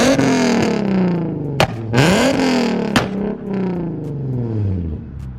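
A tuned Nissan 370Z on E85 fuel revs hard several times, the engine note rising and falling, with loud sharp exhaust pops between revs.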